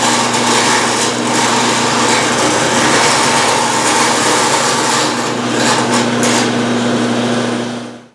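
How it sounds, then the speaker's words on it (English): A bandsaw in a workshop cuts out parts for fiberglass body ends, giving a steady, loud, continuous whine and rasp for several seconds before trailing off at the end. "we'll get over there to the bandsaw and cut those out"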